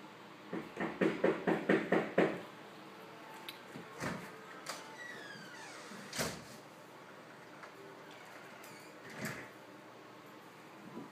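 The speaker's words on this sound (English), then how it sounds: "Someone's about to knock on the door." Someone knocks on a door in a quick, even run of about seven raps. A few faint household bumps and clicks follow in a quiet room.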